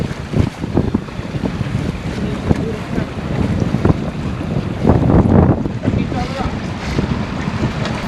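Steady, loud wind buffeting a microphone on a moving sailboat, with water rushing and splashing beneath it; low roaring gusts swell around the middle.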